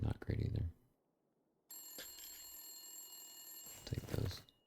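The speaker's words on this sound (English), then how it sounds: "Phone ringing?" An old telephone rings in the survival video game The Long Dark, a bright, sustained electronic bell tone lasting a couple of seconds, with a voice talking just before and after it.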